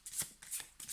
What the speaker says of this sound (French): Je vais battre un petit peu mieux les cartes